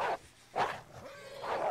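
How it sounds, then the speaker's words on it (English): Wolves in the video game Red Dead Redemption 2 give short yipping, whimpering calls. There are three distinct bursts, fairly close and moderately loud, with quiet gaps between them. "As you can see, here are the wolves."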